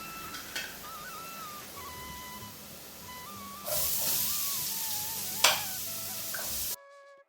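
Mustard seeds sizzle and splutter in hot coconut oil for Kerala-style carrot thoran, a steady frying hiss that swells sharply midway with a loud pop burst before cutting off abruptly.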